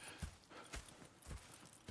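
Horse hooves clip-clop in Red Dead Redemption 2, a faint, quick run of about four hoof strikes in a steady rhythm, with no voices.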